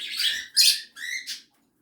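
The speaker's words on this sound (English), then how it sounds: "You can go check out their playlist of all the Java sparrows and see Misty there." Java sparrows give three or four bright, close chirps in quick succession, then fall silent.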